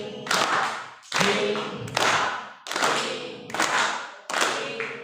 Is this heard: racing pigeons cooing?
no